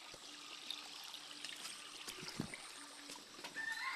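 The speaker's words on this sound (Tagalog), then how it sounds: "Talon." A waterfall in the provinces gives a continuous soft wash of rushing water, quiet and steady, with a few faint splashes and knocks mixed in.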